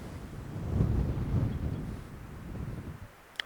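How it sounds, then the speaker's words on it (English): Wind buffeting an outdoor microphone, a steady low rumble with gusts swelling and easing, no voices. "of course it's windy the day I want to do this"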